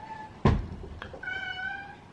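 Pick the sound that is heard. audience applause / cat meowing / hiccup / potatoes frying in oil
cat meowing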